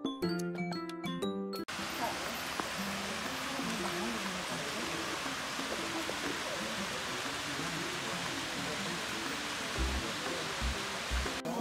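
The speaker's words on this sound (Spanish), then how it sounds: "Atrás de eso ya estaba la cascada." A waterfall in a hidden natural spot near San Francisco de Macorís, Dominican Republic, heard as a constant broadband rush of falling water that fills the scene, steady and fairly close, after a brief musical snippet at the start.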